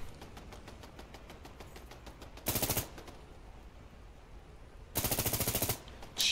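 A turret firing in Fallout 4, two sharp, rapid bursts of automatic fire about two and a half seconds apart, loud against quieter distant popping in the background, no talking.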